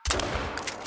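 Shotgun blasts at ducks in the hunting game theHunter: Call of the Wild on Revontuli Coast, a sharp loud shot followed by rapid echoing reports in under a second.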